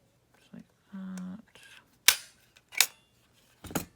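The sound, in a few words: stapler stapling avocado dyed lace down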